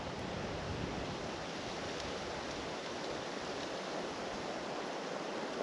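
Wind blows across Skärsjön lake, producing a steady, rushing broadband roar with microphone buffeting and no voices.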